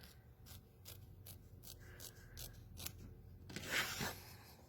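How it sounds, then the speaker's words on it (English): Scissors snip through excess denim while trimming a sunflower denim bag, a steady run of crisp, close cuts ending in a louder, rougher burst of fabric handling. "Now you're going to trim the excess, leaving 1/4 to 1/3 of an inch."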